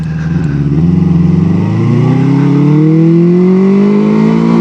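A 1973 Honda CB350 Four motorcycle engine, still a little cold, revs up steadily while being ridden, its rising whine loud and close, climbing smoothly in pitch without any talk.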